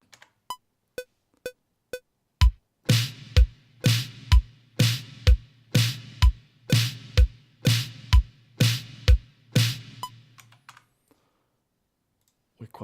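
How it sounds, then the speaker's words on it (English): LinnDrum snare sample with Vintage Verb reverb, first as a few soft clicks, then as a loud steady run of about a dozen snare hits with reverb tails, ending with scattered faint clicks. "And here we have the snare, and I have a bit of reverb from Vintage Verb on it."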